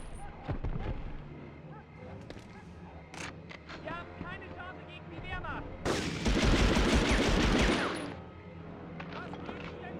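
A submachine gun is fired from the hip in the Medal of Honor video game, a rapid burst of loud automatic shots amid other gunfire and game sounds, with someone talking throughout.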